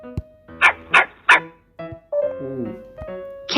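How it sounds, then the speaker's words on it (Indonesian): A dog barks close by: three sharp barks in quick succession, then a softer, drawn-out whine, with no talking. "Dog, Anjing."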